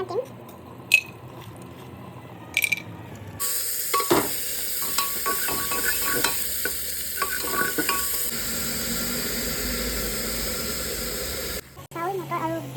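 Cashews and cardamom frying in ghee for pulao, a steady sizzle with scraping stir strokes in the pan, close and fairly loud throughout, with brief clinks near the start.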